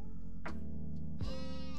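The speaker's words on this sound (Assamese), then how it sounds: "ছাগলীক আমি ইংৰাজীত কওঁ" A goat bleats twice in quick succession, loud and close, with a steady low hum behind it.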